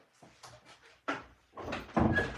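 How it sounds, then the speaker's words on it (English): A household door being shut indoors, with a few soft knocks and rattles building to louder thuds as it closes, near and fairly loud. "Shutting my door."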